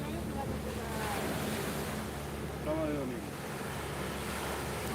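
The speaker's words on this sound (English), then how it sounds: "you can hear the waves?" Ocean waves washing onto the Costa Brava coast at Lloret de Mar: a steady, moderate surf wash with wind noise, and faint voices and some tonal sounds in the background.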